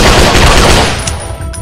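Loud rapid gunfire in the Android shooter Critical Strike Modern Combat comes as a dense burst of close automatic shots that fades out quickly at the end.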